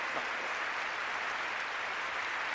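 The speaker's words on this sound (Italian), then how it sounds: "Con Dante è facile pigliare gli applausi" Steady, even applause from a theater audience after a recitation of Dante's Inferno, heard at a distance as a dense wash of clapping with no voices.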